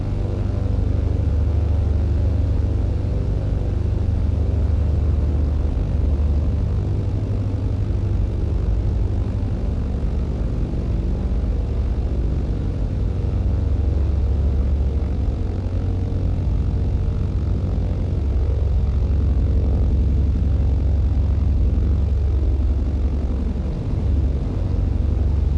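Propeller aircraft engine in Microsoft Flight Simulator 2020, a steady, loud droning hum with a low rumbling undertone that holds constant throughout without talking.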